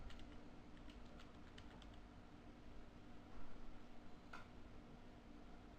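Computer keyboard typing comes through faintly as a quick run of light clicks over a steady background hiss, with a few more keystrokes spread across the rest of the clip.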